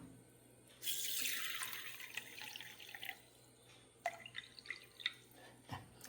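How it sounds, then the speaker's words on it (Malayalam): Water runs from a tap and splashes onto raw rice set to soak, a burst of pouring followed by scattered drips and small splashes, quiet and close with no talking. "ഇതിലേക്ക് കുറച്ച് വെള്ളം ഒഴിച്ചു കൊടുക്കാം ഇത് കുതിരാനായിട്ട് വെക്കണം"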